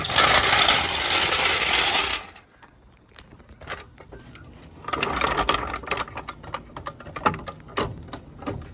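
A ratchet jack raising a car for floor repair, a loud continuous mechanical whir at first, then after a pause a run of rapid ratcheting clicks and clanks, close and uneven.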